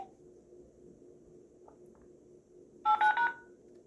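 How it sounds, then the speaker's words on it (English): A short sequence of three DTMF touch-tone beeps from an AT&T SL82218 telephone, clear and close, after a few seconds of quiet room hum. "I'm gonna pretend I'm gonna dial it up using the cell to jack"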